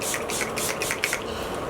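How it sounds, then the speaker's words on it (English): Setting spray misted onto a face in a rapid run of several short, hissing pumps, close and fairly loud, with no talking over it. "Let me just spray my face one more time."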